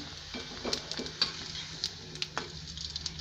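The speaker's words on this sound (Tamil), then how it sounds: "அந்த பட பட படபடன்னு பொரியறது" Rice vadam fry in hot oil, a steady close sizzle broken by small crackling pops and the occasional stir or scrape, with no talking.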